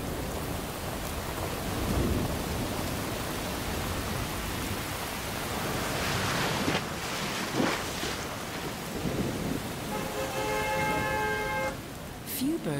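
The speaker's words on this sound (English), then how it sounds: "Sudden change in the weather, and it's time to abandon the beach. Both man and bird seek shelter from the downpour." Sudden downpour with gusting wind on a New York beach, a steady broadband hiss of heavy rain filling the scene with a few louder gusts and thumps, and faint bird chirps near the end.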